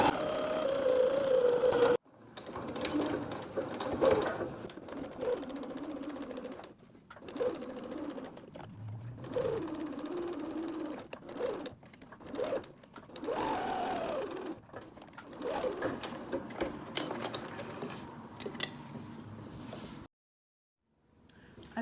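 A sewing machine runs in close, loud bursts of rapid, humming stitching as fabric hearts for a mobile are sewn together, stopping and starting repeatedly with short pauses between runs.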